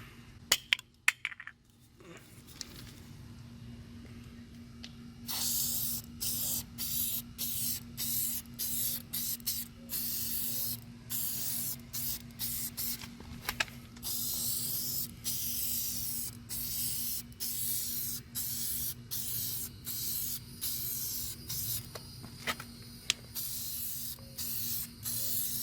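Auto detail spray misted onto a car from a trigger bottle: a long run of short, sharp hissing bursts in irregular clusters, close and crisp over a faint steady hum, with no talking.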